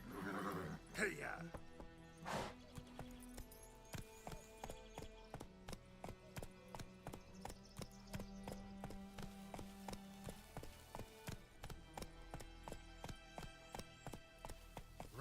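Roach, the horse in The Witcher 3, runs with quiet rhythmic hoofbeats and a short whinny, the gallop pulsing evenly under faint music and occasional speech.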